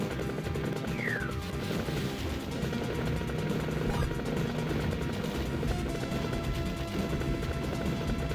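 Helicopter boss in the arcade game Nam 1975, a constant dense rotor drone mixed with game noise, gunfire and a brief descending whistle, loud and unbroken throughout.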